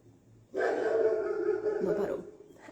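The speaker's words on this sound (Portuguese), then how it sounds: "Ó, os cachorros." Several dogs bark at a distance, a sudden burst of overlapping barks starting after a quiet moment and continuing steadily for a couple of seconds before fading.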